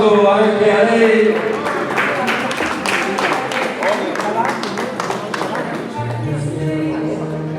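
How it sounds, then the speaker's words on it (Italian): Audience applause at a regional Miss Europa beauty pageant final in Veneto, a dense, steady patter of clapping from a crowd that carries on throughout, with music and a presenter's voice faintly underneath. "un applauso anche a lei"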